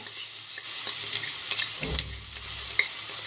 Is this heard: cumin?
yes